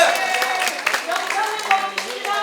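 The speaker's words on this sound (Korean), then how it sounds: "의원님들도 가시는데 박수한번 주세요!" Audience applause for departing council members at a traditional Korean performance event, a lively scatter of claps mixed with voices and cheering from the crowd.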